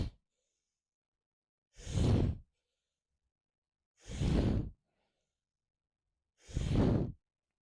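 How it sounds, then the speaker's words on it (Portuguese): Three separate forceful breaths, each roughly half a second long, are pushed out through the nose at an even pace during a breathing exercise, with silence between them and no talking. "depois você vai colocar um pouquinho de velocidade, uma respiração um pouquinho mais rápida"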